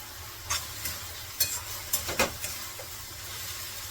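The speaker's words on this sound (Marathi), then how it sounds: "भाजी परत परतते" A spatula scrapes and clinks against a pan in a few irregular strokes over a soft, steady sizzle of frying vegetables.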